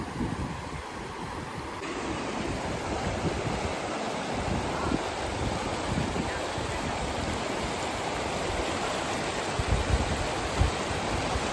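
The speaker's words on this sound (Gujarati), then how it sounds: "સરસ મજાનું પાણી વહી રહ્યું છે" River water rushes steadily nearby in a dense, broad roar, with wind-like gusts mixed in and no voices.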